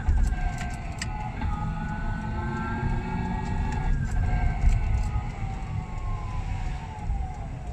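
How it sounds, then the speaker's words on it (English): Reverse warning signal of a JI005 two-seat electric mini car: a steady electronic tonal alert that wavers and bends in pitch, continuous over a low vehicle hum. "Reverse warning on the reverse camera."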